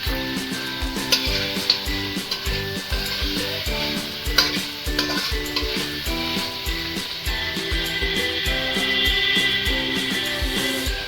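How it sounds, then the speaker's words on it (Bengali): Chicken and spices frying together in a pan with a small amount of oil, giving a steady close sizzle broken by repeated scraping and stirring strokes, with no talk over it. "এবার মশলাটাকে ভালো করে কষিয়ে নিচ্ছি চিকেনটার সাথে"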